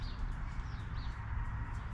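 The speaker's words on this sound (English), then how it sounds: "I think it's just birds." Birds call faintly outdoors, with a few short rising chirps over a low, steady rumble in the background. The calls are distant and quiet, and no one speaks.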